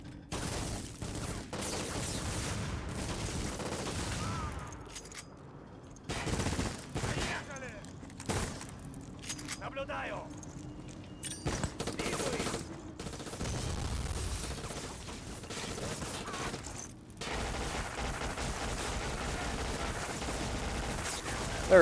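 MP5 submachine gun fire in the shooter video game Black, with dense bursts of rapid gunfire and explosions in repeated stretches, separated by brief quieter gaps, over game ambience.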